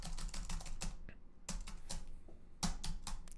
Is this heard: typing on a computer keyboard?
yes